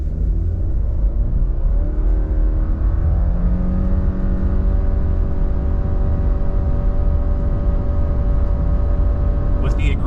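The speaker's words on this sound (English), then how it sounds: "0 to 60 in the 2025 Subaru Crosstrek Wilderness." 2025 Subaru Crosstrek Wilderness accelerates hard from 0 to 60 with traction off in sport mode, its engine droning from inside the cabin and rising steadily in pitch through the gears, loud and continuous.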